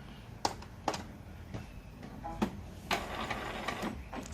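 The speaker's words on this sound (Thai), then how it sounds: "ปิดตัวเครื่องพิมพ์เตอร์นะครับ แล้วก็เปิดใหม่" An Epson L220 inkjet printer powers back on with faint mechanical clicks and knocks, followed by a soft whirring rattle from the inner carriage, heard close in a quiet room.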